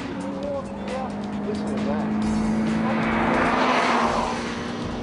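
A Honda Civic Type R laps a race circuit, its engine drone holding a steady pitch then building toward a louder, rougher surge, heard beneath continuous commentary.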